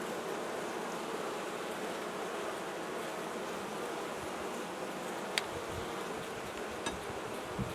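A steady, dense buzzing of many honey bees close by inside a hive, continuous throughout with a couple of faint clicks, no voices.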